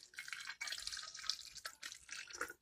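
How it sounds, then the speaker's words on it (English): Water splashes and trickles in a continuous gurgling stream with a couple of brief breaks, close and fairly quiet, poured into a bottle. "so we'll put the water in"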